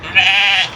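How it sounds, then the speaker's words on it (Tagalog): A sheep gives one loud, close, sustained bleat on a hiking trail where goats are also present. "May mga tupa rito."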